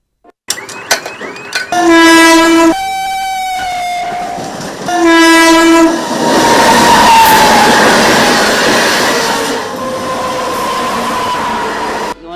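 Train passing a gated railway crossing: two loud, sustained horn blasts, then the close, heavy rumble and clatter of the passing cars continuing to the end, with no talking.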